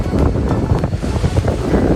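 Sea waves roll in on the beach at Rameswaram, Tamil Nadu, with strong gusting wind buffeting the microphone, loud and continuous throughout with no voices.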